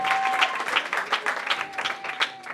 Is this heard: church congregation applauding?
yes